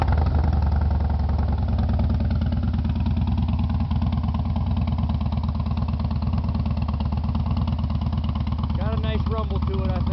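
A motorcycle engine idles steadily after start-up with an even, close, continuous rumble, and a voice speaks briefly near the end.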